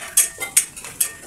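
Buff (buffalo meat) being stir-fried in a pan, with three sharp metallic scrapes of a spatula against the pan at a steady rhythm, close and fairly loud.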